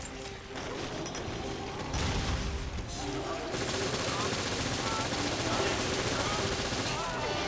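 Rapid gunfire in the video game Resident Evil Revelations, Raid Mode, dense bursts of shots layered with mechanical clatter, running continuously and loud over background game noise.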